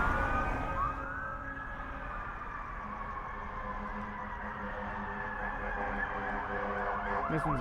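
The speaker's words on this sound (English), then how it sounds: "This one's a fire truck." A fire engine siren wails at a street intersection, rising and falling steadily as the truck passes and turns, heard against constant city traffic rumble, moderately loud throughout.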